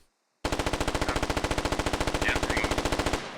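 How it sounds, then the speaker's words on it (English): Sustained assault rifle fire in the tactical shooter Squad, a loud, steady, rapid automatic burst of about three seconds starting after a brief silence, heard close and alone. "looks like an AR just opened up here"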